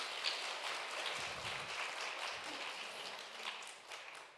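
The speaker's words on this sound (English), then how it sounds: "give an opportunity for the audience to give an enormous round of applause" Dense, continuous applause from a large conference audience, a steady rushing patter of many hands clapping at a distance, fairly quiet throughout.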